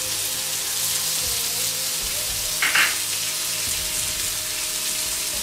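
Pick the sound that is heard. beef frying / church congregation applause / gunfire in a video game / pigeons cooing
beef frying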